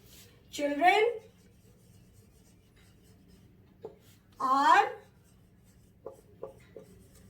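Chalk scratching out a sentence on a classroom board in two quick bursts of strokes, with a few light taps between, close and clear over a faint room hum.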